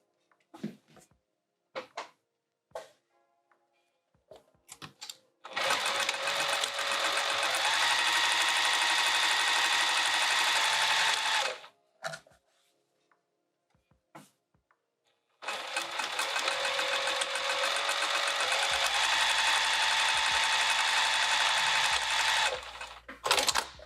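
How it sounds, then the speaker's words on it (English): A sewing machine stitches across the top edge of a bag in two long, steady, close runs of about six and eight seconds, separated by quiet handling clicks and taps, with no one talking. "we're just going to sew across that top edge"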